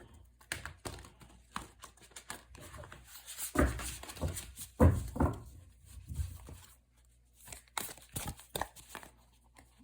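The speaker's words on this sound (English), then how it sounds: "let's give it one more shuffle" Tarot cards are shuffled by hand in irregular bursts of papery riffling and soft slaps, close and fairly quiet, with short pauses between flurries.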